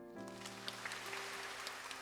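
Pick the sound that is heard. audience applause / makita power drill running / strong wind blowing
audience applause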